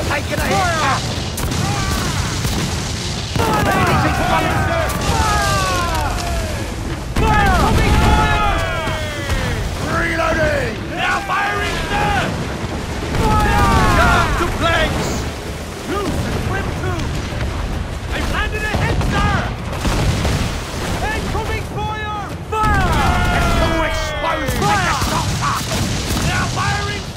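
Cannon fire from a sailing warship in Assassin's Creed IV Black Flag, with repeated heavy booms over continuous loud battle noise, shouted game dialogue and swooping projectile whistles.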